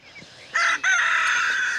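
A rooster crows loudly and close by on a farm where geese and hens are let out to pasture; one long crow follows a brief start, with no talk.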